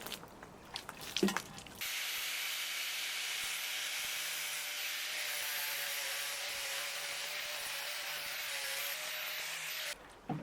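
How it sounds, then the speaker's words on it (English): An angle grinder works over a stained surface in an off-grid homestead kitchen build, a steady close hissing, rasping whir that runs for several seconds without pause. "the angle grinder is the way to go"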